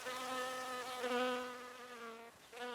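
Bees in flight inside a narrow experimental tunnel, giving a steady close buzzing drone with a strong harmonic whine that wavers in pitch, briefly dipping near the end before resuming.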